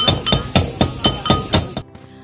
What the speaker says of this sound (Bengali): প্রথমে ইলিশ মাছের লেজগুলোকে কড়া করে ভেজে নিয়ে হাম্বল দিস্তায় ভালোভাবে মিশিয়ে দিতে